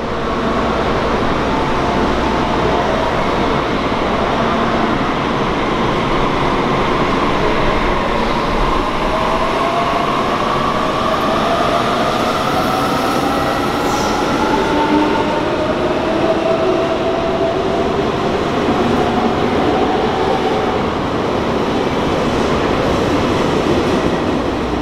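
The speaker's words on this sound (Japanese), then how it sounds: "目的の36プラス3が入線してきます。" The Kyushu 787 series express train 36+3 pulls into a station platform, a loud continuous rumble of wheels with rising and falling squealing tones as it slows.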